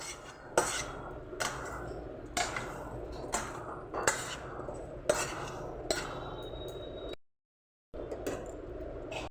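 A pan of Bengali onion poppy-seed dish handled at the stove, with a metal spoon striking and scraping the pan in regular clinks roughly every second or so, close and moderately loud, broken by a brief silence.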